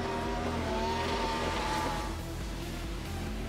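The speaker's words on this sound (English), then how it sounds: "That unique exhaust note coming courtesy of a Hartley Racing Engines 1GZ Toyota 5-litre V12" A Hartley Racing Engines 1GZ Toyota 5-litre V12 in an S14 race car howls with a smooth, high exhaust note that holds loud and then eases slightly.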